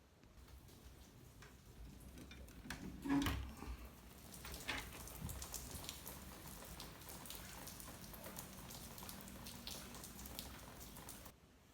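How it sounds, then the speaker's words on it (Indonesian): Light drizzle falling outdoors, a soft steady patter of fine raindrops ticking on surfaces throughout, fairly quiet and continuous with no voices. "di luar beneran hujan loh ya. Bukan hujan sih, gerimis."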